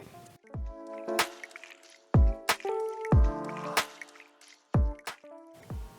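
Water drips and drains through a wetted paper coffee filter on a pour-over brewer, giving several distinct wet plops and squishy drops spaced irregularly over a quiet background, with close, fairly loud detail.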